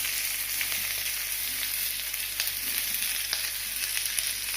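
Sliced onions dropped into hot oil in a pan for a hotel-style Kerala chickpea curry, frying with a steady bright crackling sizzle, close and continuous with no talk.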